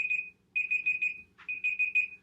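Beeping timer alarm going off close by in a room, three bursts of rapid repeated electronic beeps separated by brief pauses, loud and alone.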